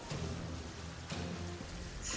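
Steady soft rain hisses through a Terraria game scene, a faint even wash with no clear individual drops and no talk over it.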